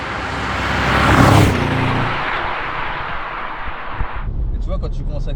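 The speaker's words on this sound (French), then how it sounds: "quand tu commences à accélérer, tu entends bien le bruit" An Audi RS6 C7 accelerates on snow with a loud, broad roar that peaks early, then holds a steady rush before dropping off abruptly near the end.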